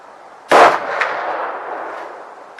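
A single sharp, loud muzzle blast from a Marlin M1895XLR lever-action rifle in .45-70 at an outdoor range, followed by a long fading echo rolling away for about two seconds.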